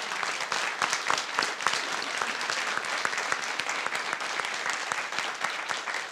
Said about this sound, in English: So please join me in another round of applause to Zhou Fan herself.